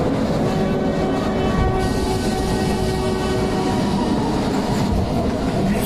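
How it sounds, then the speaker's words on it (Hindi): A train runs steadily with continuous low rumble and rolling rail noise, a sustained tonal horn-like drone threading through, close and loud throughout with no talk. "ये कैसी ट्रेन है"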